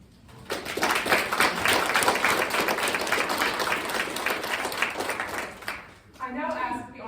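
Sustained, dense clapping comes from an audience at a Christ College Oxford college debate. It lasts about five seconds, then fades as a single voice begins speaking.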